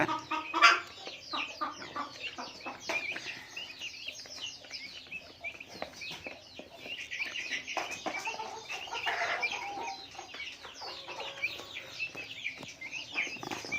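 Chickens peck at feed on the ground, giving a busy stream of soft clucks and chirps with quick sharp pecking taps, close by and without any talking.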